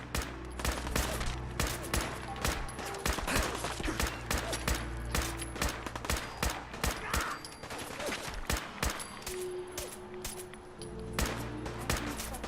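Repeated gunfire from enemies shooting in the Fallout 4 video game, Far Harbor area: dense volleys of sharp shots and bursts, loud and close, continuing steadily with no speech.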